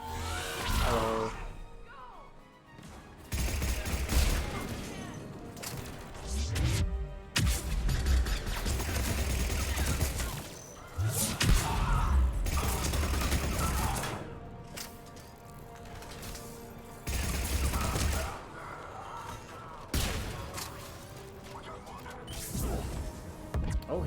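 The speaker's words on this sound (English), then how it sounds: "Oh, I hear a turret." Turret gunfire in the video game Mass Effect 3, loud bursts of shots and crashing impacts repeating throughout amid layered game combat noise, whooshes and mechanical effects.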